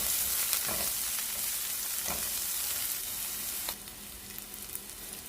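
Egg fried rice with sliced onion sizzles hard in a pan over high heat, a steady loud frying hiss with brief scraping stir strokes, easing slightly quieter toward the end.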